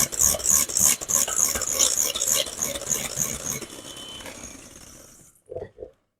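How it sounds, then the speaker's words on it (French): Tartlet batter for spread-filled tartlets whisked briskly in a bowl, a fast continuous metallic rattle of whisk wires for about five seconds, then silence broken by two soft knocks. "on va refaire un petit tour de fouet"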